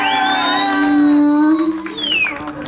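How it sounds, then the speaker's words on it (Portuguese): At a marriage proposal during a 15th birthday party, a crowd erupts in loud cheering and shouted whoops, with sustained voices and some clapping underneath, close and energetic. "Uma salva de palmas, galera!"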